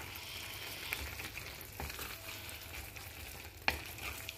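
Spaghetti half-cooked in water finishes simmering in sauce in a pan, a faint, steady sizzle and bubbling with a couple of soft stirring clinks.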